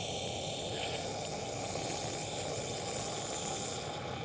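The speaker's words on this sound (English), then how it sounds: "I'm just using WD-40 because it's convenient and easy to use" WD-40 sprays into the valves of a 2006 Subaru Legacy GT turbo engine during teardown, a continuous close hiss lasting several seconds before tapering off.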